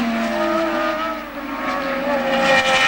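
A 1970 Formula 1 Ferrari racing at the British Grand Prix, a loud, sustained high engine whine with shifting pitch as cars pass, continuous and alone for three seconds.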